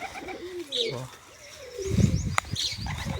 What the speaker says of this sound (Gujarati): બધા કબૂતર ધીમે ધીમે ઉતરે છે